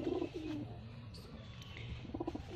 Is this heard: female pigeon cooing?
yes